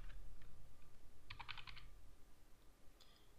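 A brief cluster of rapid keystrokes on a computer keyboard, text and numbers entered into a PDF form field, sounds near and fairly quiet over a low steady hum, then a single later click.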